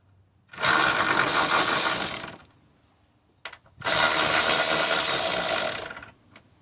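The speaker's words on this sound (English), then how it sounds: "Now these 2 here, you can remove them normally with a regular socket." A socket wrench spins 14 mm bolts out of a 2008–2012 Honda Accord 2.4 during a transmission removal: two long, loud, steady whirring bursts of about two seconds each, separated by a short pause with a few faint clicks.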